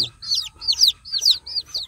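Newly hatched native village chicks peep while feeding on food scattered across the floor: a run of about seven high, bright chirps in a quick, even rhythm, close by, with a faint low murmur beneath.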